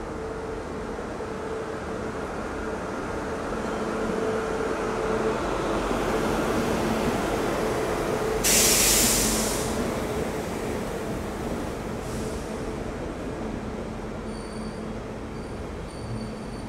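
The Humsafar Express, hauled by a WAP7 electric locomotive, rolls into a station platform with a steady rumble of wheels and carriages. A brief loud horn blast or hiss cuts in partway through.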